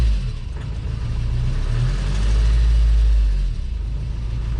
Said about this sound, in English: Sounds like every diesel normally